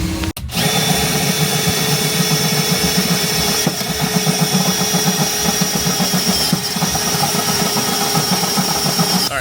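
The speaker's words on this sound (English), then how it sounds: "we're gonna drill a small hole" A power drill bores a small hole through a metal plate for an eye bolt during car fabrication, a steady loud whine running continuously for about nine seconds after a brief start.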